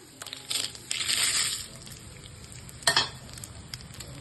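Ginger and curry leaves drop into hot oil already holding mustard seeds, coriander seeds and cumin, bursting into a close sizzle with sharp crackles and a second loud spatter burst, no talking.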